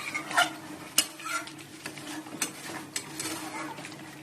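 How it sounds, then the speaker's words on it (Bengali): Chicken being sautéed and stirred in a pan, heard as a soft sizzle beneath irregular metallic scrapes and knocks of a spatula against cookware, close by, with occasional faint voices. "চিকেনটা কষাচ্ছি।"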